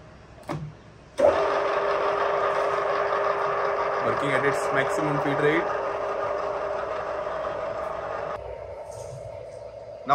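A Mas VR6A radial drilling machine runs at its maximum feed rate, a steady close mechanical hum with a strong tonal whine and some rattling, holding for about seven seconds before dropping off.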